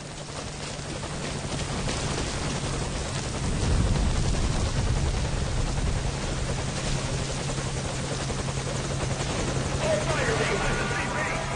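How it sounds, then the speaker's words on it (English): A helicopter from Metal Gear Solid V thrums loudly and continuously, its rotor drone steady throughout while bursts of gunfire and other game effects crackle over it. "the enemy has spotted our helicopter, so let's defeat them before we get shot down"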